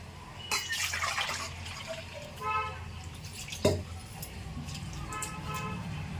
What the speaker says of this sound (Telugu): ఇప్పుడు వాటర్ పోయాలి